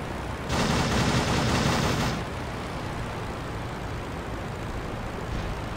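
A sustained burst of rapid machine gun fire from a WWI aircraft in a flight game lasts under two seconds, set against a steady engine drone that carries on afterward, with no talking.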